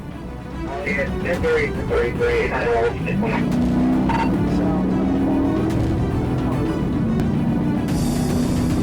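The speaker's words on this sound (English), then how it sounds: "instead of pulling over, the driver accelerated, leading to a high-speed pursuit through heavy traffic" A Honda Civic speeds away from police through heavy traffic, its engine note rising steadily and holding a loud, sustained roar.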